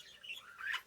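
A budgie gives a brief, faint high chirp, two quick tweeting notes in about a second, heard alone in a quiet room.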